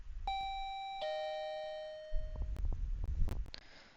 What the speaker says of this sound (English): Can I ring my doorbell?